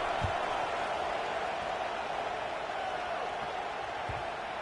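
Broad, steady roar of a large stadium crowd at a Clemson versus South Carolina college football game, a continuous wash of distant voices with a couple of low thumps, no distinct cheer standing out.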